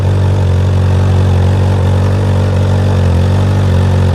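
A Honda CB 1000R inline four-cylinder motorcycle engine idles close by, producing a steady, loud, slightly lumpy drone that holds even throughout.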